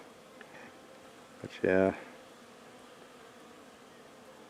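A bee buzzes loudly past the microphone at cherry blossoms for a moment, then fades into quiet outdoor ambience; a voice speaks briefly.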